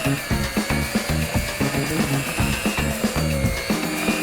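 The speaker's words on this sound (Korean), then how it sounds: "믹싱볼이 알아서 돌아가기 때문에 조금 더 쉽게 반죽이 가능해지는데요" A stand mixer runs with its bowl turning as it kneads bread dough, giving a steady, loud motor whir with a regular rhythmic thumping as the dough slaps around, continuous throughout with no talking.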